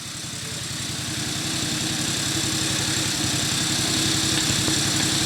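An antique motorcycle engine runs close by with a fast, steady, even thumping idle, loud and unbroken throughout with no talk over it.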